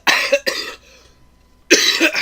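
Harsh, close coughing: two quick coughs, a short pause, then another rough cough, with no talking.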